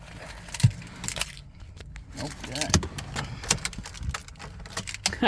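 Car keys jangle and clink in bursts as they are pulled out at a vehicle, mixed with door and handling clatter while someone talks nearby.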